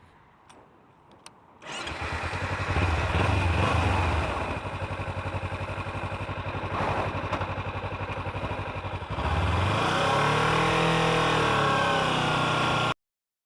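A 2015 Kawasaki Ninja 300 motorcycle starts up close by, then idles and revs loudly, the engine note climbing through repeated throttle blips before cutting off abruptly.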